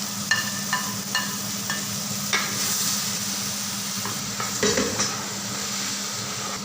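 Green chillies and chopped tomatoes sizzle in hot oil for a chicken curry while a spoon stirs and scrapes the pan in a few irregular strokes, the frying steady and close with no talking.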